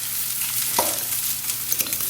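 Ingredients seasoned with cracked black pepper being mixed together in a hot pan, a soft steady sizzle with a few brief scraping stirs.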